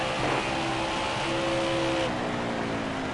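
NASCAR Craftsman Truck Series race trucks roar around WWT Raceway on the final lap, a steady loud engine drone with rising and falling pitch as they pass.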